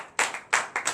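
Congregation at a Beninese morning prayer service clapping in acclamation: three loud, close bursts of hand claps, each a quick double or triple clap, with no talking.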